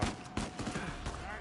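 Gunfire in a PS4 shooter game, a short run of quiet, muffled shots blurring into a rapid volley over a steady background din.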